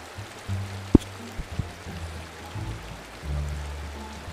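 Waterfall in a Bigfoot video game, a steady rushing wash of water running throughout at moderate level, with a few low thumps and tonal game sounds layered over it.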